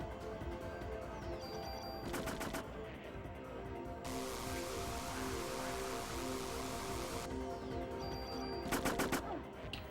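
Bursts of gunfire from the video game Parasite Eve, two short clusters of rapid shots near the start and end, set against a steady bed of game music and a noisy rain-like wash in the middle.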